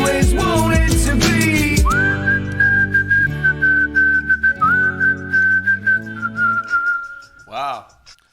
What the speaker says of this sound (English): It's got whistling in it.